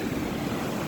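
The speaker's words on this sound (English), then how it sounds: "Look at these waves crashing in right now" Ocean surf of roughly 2.5 to 3 foot swells washes onto the shore, a brief broadband rush of water with some wind noise, fairly close, with no voices.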